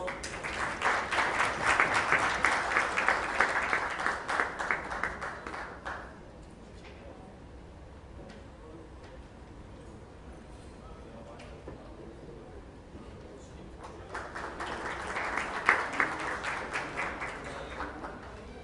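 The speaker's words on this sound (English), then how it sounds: "Big round of applause." Audience at a smart city conference in Bhopal breaks into sustained clapping, dies down to a murmur for several seconds, then a second burst of applause swells up again.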